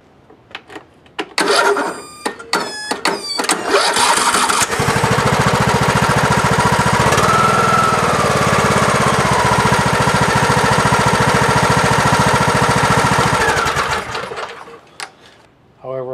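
A Craftsman YT3000 riding mower, just repaired after a sheared flywheel key, clicks and cranks in quick bursts. Its engine then catches and runs loudly for about ten seconds before shutting down, with a few faint noises at the end.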